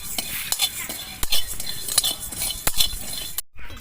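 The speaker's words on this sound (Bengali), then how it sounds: "এই সুন্দর কড়াই আমি মশলাটা ভেজে নেব।" Whole cumin and coriander seeds dry-roasting in a kadai in a village kitchen, with a busy run of scraping stirs and metal clinks against the pan and a faint dry rustle throughout.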